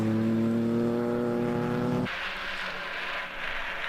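Audi TT race car lapping the Silverstone GP circuit in a 750MC Birkett relay, a loud engine drone with strong tonal harmonics that drops away abruptly into a broad distant roar.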